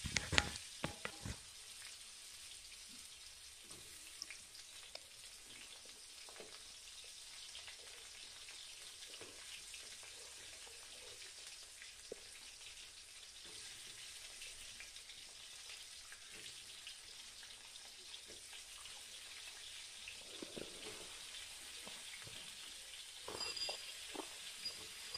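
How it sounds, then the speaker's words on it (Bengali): Spiced potatoes, rubbed with salt and spices, fry in hot oil in a wok with a steady broadband sizzle and scattered stirring clicks. Quiet and even, with no talking throughout. "এবার আমি সব আলুগুলো আস্তে আস্তে দিয়ে ভেজে নেব"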